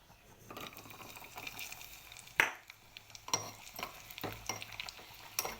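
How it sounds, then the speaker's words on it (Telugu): Raisins and cashews fry in ghee in a small pot, a soft sizzle punctuated by sharp scraping and clinking of a spoon against the metal at irregular intervals; no voices. "నెయ్యి వేసుకొని గిన్నెలోని కిస్మిస్ జీడిపప్పు వేపుకుందామండి"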